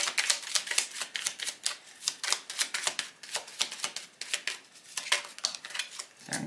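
A deck of cards is shuffled by hand in quick, crisp riffling bursts, close and fairly quiet, repeating in a steady rhythm without any talk.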